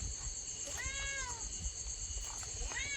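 A cat meows clearly twice, a longer call near the start and a shorter one near the end, over a steady high electrical hum and low background rumble in a home where festival sweets are being prepared.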